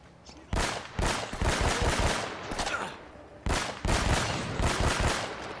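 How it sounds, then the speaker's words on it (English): Bursts of rapid automatic gunfire from the action game Uncharted: Drake's Fortune, two dense volleys separated by a short pause, loud and close with no talking over them. "I did not mean to shoot that."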